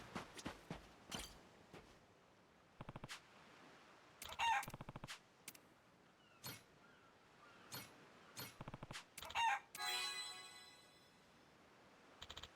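Chicken clucking in the video game Like a Dragon: Pirate Yakuza in Hawaii, short repeated bursts of clucks and squawks with brief crowing-like calls, scattered across the clip between quiet gaps, alongside footstep-like taps.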